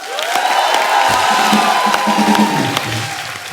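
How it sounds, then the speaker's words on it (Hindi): A studio audience at a comedy talk show cheers loudly for 1983 World Cup cricket heroes, a dense crowd roar with shouts rising over it, sustained and close throughout. "पाजी जोरदार तालियां आप।"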